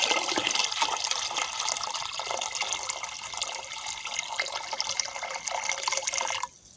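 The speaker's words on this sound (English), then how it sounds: "Pour water until the level come to this point." Water pours steadily into a soil infiltration cylinder in a continuous splashing rush, then cuts off abruptly near the end, leaving quiet.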